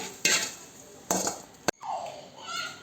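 A plate is set down beside a pan of freshly fried masala okra in a home kitchen: three sharp clattering knocks, then a brief ringing, sliding tone from the dish.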